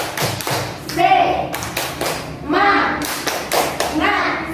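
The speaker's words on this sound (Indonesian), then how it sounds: "Kita berikan tepuk semangat dulu ya. Tepuk semangat." Schoolchildren in a Grade 3 primary classroom perform a rhythmic group clap, bursts of sharp claps and thumps in patterned groups, with children's voices chanting along between the beats.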